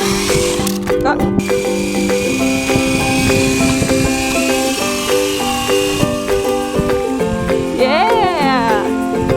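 A remote control helicopter flies close by, its motor producing a steady high whine with shifting tones as it speeds up and slows. Excited voices shout over it.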